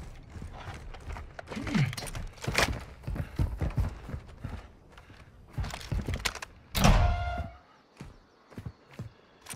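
Placing a Claymore mine in Call of Duty Warzone produces a series of close mechanical clicks, clunks and ratcheting thuds in irregular bursts, ending with a sharper, louder metallic clatter.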